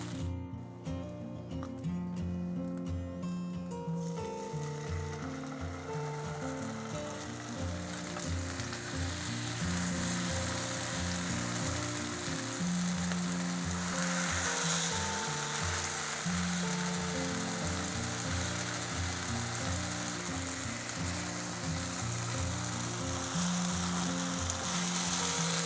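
Chicken pieces sizzle steadily in masala in a pan, a continuous loud fry with occasional scraping and stirring over a faint music bed.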